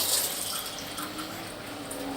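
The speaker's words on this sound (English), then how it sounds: "Go out of the tap there." Kitchen tap running steadily, a broadband hiss of water with faint splashing, close and continuous, heard alone while a chicken and leek pie is being made.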